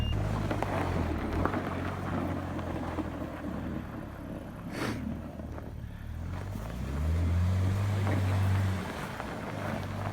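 A BMW struggles in deep snow during a Portland snowstorm, its engine droning and rising into a louder rev as the wheels spin, with rushing wind noise over the microphone.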